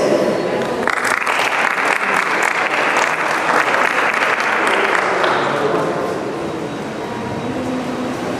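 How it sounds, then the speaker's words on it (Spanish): An audience applauds at a medical talk on prenatal care, a loud dense wash of clapping that rises quickly, holds steady, then thins and fades toward the end. "Recibamos con un fuerte aplauso a la doctora Maricruz Pineda Vázquez"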